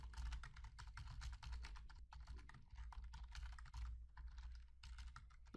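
Steady, rapid typing on a computer keyboard while Oracle PL/SQL code is entered, dense clattering keystrokes with short pauses, close and fairly quiet, with no talking.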